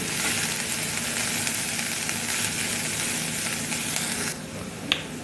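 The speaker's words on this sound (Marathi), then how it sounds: "कांदा चांगला फ्राय करून घ्यायचा आहे तेलामध्ये चार पाच पाकळ्या लसणाच्या ठेचून घेतल्या मिक्स करून घेऊ" Onion and crushed garlic cloves frying steadily in hot oil, a continuous close, dense sizzle that quiets slightly near the end, with one small clink.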